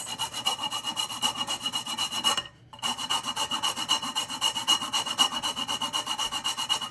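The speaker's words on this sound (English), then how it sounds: "I'm gonna grate some nutmeg into this." Whole nutmeg being grated by hand into a goja dough mixture: close, rhythmic rasping strokes in a fast even series, with one brief pause partway through.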